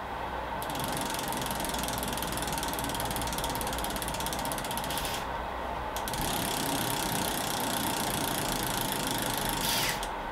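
A bicycle freehub spins freely after its nut is fitted, giving a steady, dense ratcheting click from the pawls that runs almost unbroken, close and loud, with two brief gaps where the spin pauses.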